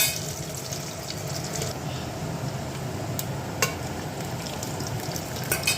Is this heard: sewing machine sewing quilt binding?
no